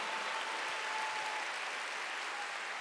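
A church congregation applauds during a Sunday worship service, a faint, even wash of clapping heard from a distance that holds steady throughout.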